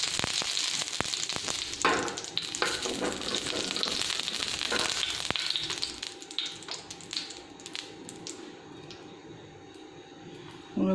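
Bread slices frying in desi ghee on a tawa over very low heat, a crackling sizzle with tapping and scraping that fades to a softer hiss, while a voice speaks softly now and then.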